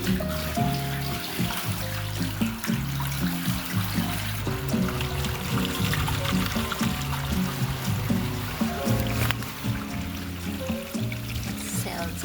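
A bathtub tap runs water into a cabin's new greywater drain, a steady gurgling, trickling flow throughout, fairly close, with some low rumbling underneath.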